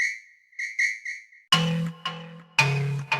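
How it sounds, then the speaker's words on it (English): Whistle sound sample in an amapiano beat made in FL Studio, a bright, short repeated whistle phrase that then gives way to punchy drum hits and percussion, loud and close. "I had this whistle sound."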